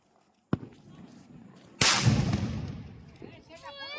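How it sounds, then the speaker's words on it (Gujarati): Two sharp Diwali firecracker blasts, a small crack followed a second later by a much louder boom from a putli bomb that rumbles and fades, with voices afterward. "ઓહો સીતુભાઈ, તમારો પુતળી બોમ્બ સીતુભાઈ."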